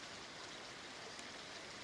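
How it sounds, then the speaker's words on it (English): Fast-flowing Buffalo River rushing past at close range, a steady broadband roar of churning water with no breaks, loud and continuous throughout with no voices. "This river is booking pretty good."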